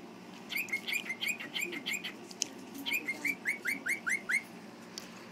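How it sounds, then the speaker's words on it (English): A pet bird chirps in two rapid runs of short, bright, repeated notes, close and fairly loud, over a steady low household hum with no talking. "Sweet, sweet, sweet bird."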